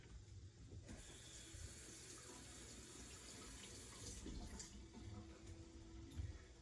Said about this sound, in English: I'm just gonna give it a quick hand rinse.